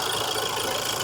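Audi A4 diesel engine running at idle during a DPF clean, a steady mid-pitched rumble with a faint knocking rattle, close and continuous with no talk.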